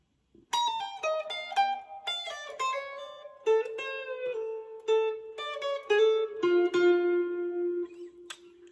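Electric guitar plays a solo lick from a song, a short run of clean picked notes that slides down and ends on sustained bends, close and fairly quiet, alone without talk.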